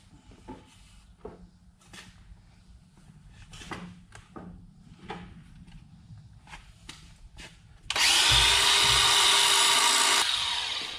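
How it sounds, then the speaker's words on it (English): A broken pivot pin being welded back onto a Husqvarna Soft Cut V1000 vacuum: scattered workshop clunks and taps, then a loud, steady crackling hiss of welding that runs close for a few seconds near the end. "so I'm fixing to weld that back in"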